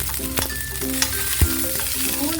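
Sliced garlic and cumin seeds sizzle in hot oil for Punjabi dhaba-style dal tadka, a steady close frying crackle with a few sharp clinks of a utensil against the pan.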